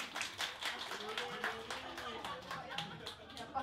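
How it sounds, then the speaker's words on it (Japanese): A small audience at a Japanese support gathering claps steadily in a busy, continuous patter, with voices chattering and talking underneath throughout. "どうぞ拍手を。"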